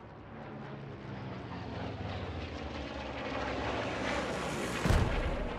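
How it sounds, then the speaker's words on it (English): An aircraft flies in over a World War II battlefield in the game Post Scriptum, a broad rumbling engine roar that swells steadily louder as it nears, topped by a heavy thump near the end. "You can hear a plane coming in. I imagine that might be a German plane."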